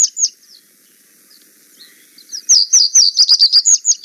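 A bird's song of rapid, repeated high chirps, preceded by a couple of brief notes and a quiet pause, close and clear.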